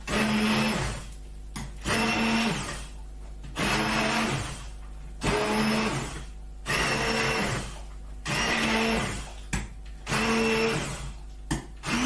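Kitchen blender running a final mix of red cabbage soup in repeated loud bursts of about a second each, with short pauses between, steady whirring pulses throughout.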